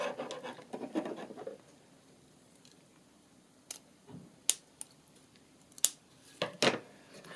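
Scissors snip through fluffy craft material while decorating a wooden Advent calendar, giving a few sharp, separate cuts and small scrapes close by at a quiet level.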